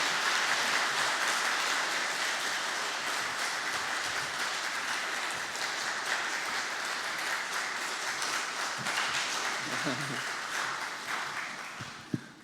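A church congregation at an anniversary revival service claps together, a steady, dense round of applause that holds for several seconds and tapers off at the end.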